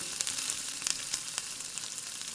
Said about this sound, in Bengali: তারপরে কিছুক্ষণ পর পর আমি সিমটাকে ভাজি করে নিব